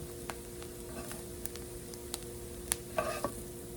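Food browning in a frying pan sizzles quietly and steadily under a low background hum, with a few light stirring clicks and scrapes toward the end.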